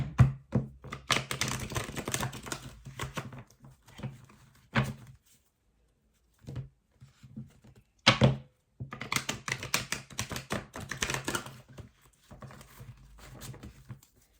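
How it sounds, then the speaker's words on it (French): Tarot cards being shuffled by hand: rapid papery riffles and flicks come in busy bursts, broken by a couple of short pauses and soft thumps, close and moderately loud, with no talk. "Je suis obligée de les mélanger comme ça parce que sinon je ne vais pas aller assez vite."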